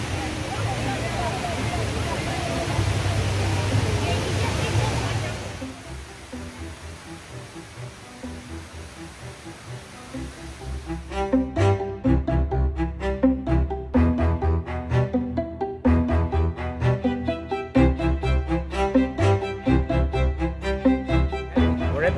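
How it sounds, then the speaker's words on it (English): HSBC Rain Vortex, a large indoor waterfall, gives a steady broadband rush that fades out midway, then returns beneath a loud, rhythmic stretch of music with a heavy beat and a crowd murmuring. "Bottom of the waterfall"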